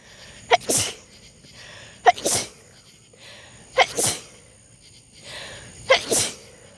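A person sneezes four times in a row, each a sharp intake followed by a loud burst, spaced about one and a half seconds apart, close and clear with no talking.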